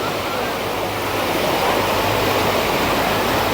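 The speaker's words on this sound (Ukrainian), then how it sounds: "І шум хвиль, і сама хвиля, ну просто кайф." Steady rushing wash of artificial waves breaking nearby in a wave pool at a thermal water park, a continuous broadband roar with a low hum underneath and no clear pauses.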